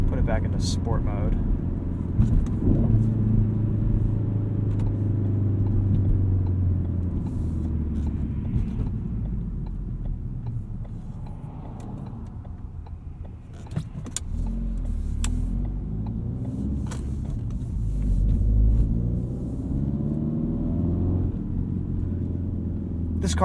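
A modified Ford Performance Focus RS on winter tires, driven in sport mode, gives a steady low engine and road rumble from inside the cabin throughout, with people talking over it.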